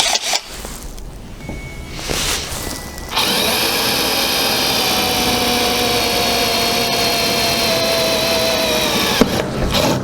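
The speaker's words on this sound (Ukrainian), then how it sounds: "Фіксуємо деталь та починаємо сверлити." A Spitce step drill bit bores through square metal tube with a 3 mm wall, a loud steady power-drill whine with grinding that starts after a few seconds of lighter handling noise and runs continuously, with no talk.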